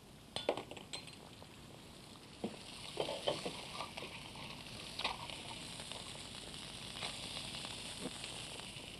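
Butter melting in a pan on the stove, a faint, steady sizzle under scattered clinks and taps of utensils and cookware, quiet and close with no voices.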